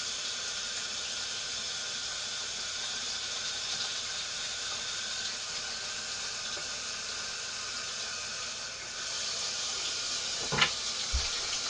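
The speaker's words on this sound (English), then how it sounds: "I'm going to go wash my hands with it." A running tap streams steadily as hands are washed with homemade lye soap, a constant hiss of water with a brief splash or knock near the end and no speech.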